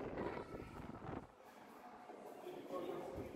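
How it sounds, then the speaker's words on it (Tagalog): Gusty wind buffets the microphone in the streets of Siena, Tuscany, with a steady low rumble that eases briefly before rising again. "Kita niyo? Hangin."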